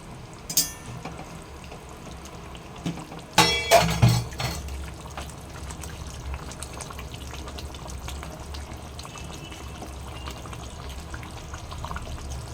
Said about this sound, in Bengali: এবারে ফুটে যাক কিছুক্ষণ।